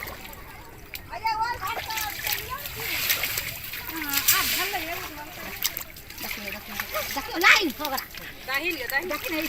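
Children sitting and splashing in village flood water, with steady loud splashing and sloshing close by under continuous talk and children's voices.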